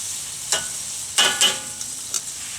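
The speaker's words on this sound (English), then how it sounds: "give these asparagus's a quick little stir" Asparagus sizzles on a grill under a constant soft hiss, while a few short, sharp scrapes and clacks from a utensil stirring it stand out close by. No one speaks.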